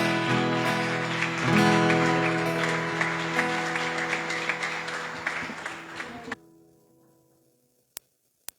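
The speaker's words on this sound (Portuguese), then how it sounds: "Você pode aplaudir a Ele." A church congregation at a family worship service claps along with music, a thick wash of applause and sound that fades away sharply, followed by near silence broken by a couple of isolated clicks.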